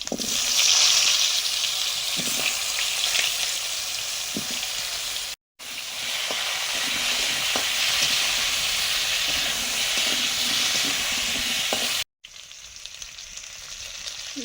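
Potato and papaya sizzle hard in hot mustard oil with black cumin seeds and bay leaves, a dense, steady, close frying hiss broken by two brief cuts, with no talking.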